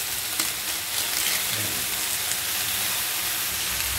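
Adobo frying in a pan while being stirred, a dense, loud, continuous sizzle with occasional faint utensil scrapes, close and with no talking.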